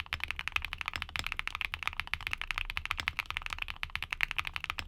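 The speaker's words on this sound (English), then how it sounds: "if you need something light and creamy, these Keylins are the way to go." Keylin creamy mechanical keyboard switches typed in a rapid, even stream of soft, muted clacks, close and continuous with no talking.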